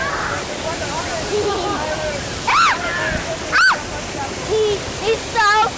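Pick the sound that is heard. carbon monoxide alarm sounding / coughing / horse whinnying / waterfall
waterfall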